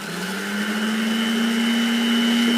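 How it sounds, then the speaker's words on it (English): An electric mixer whips thick cream in a bowl for ice cream, its motor giving a steady whine that rises slightly in pitch as it keeps running, close and alone. "So leave the mixer running."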